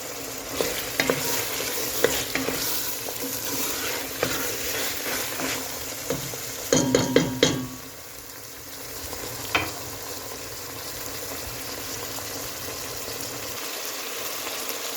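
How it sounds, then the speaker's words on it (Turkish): A pot of meat and green bean stew bubbles and sizzles steadily, with a brief burst of clattering stirring midway and occasional light knocks. "Yemeğim böyle kaynıyor"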